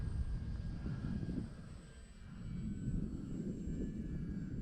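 E-flite/ParkZone F4F Wildcat, a small electric RC model of the WWII carrier fighter, flying at about quarter throttle: a steady motor and propeller drone that fades slightly mid-pass and then swells again, moderately distant.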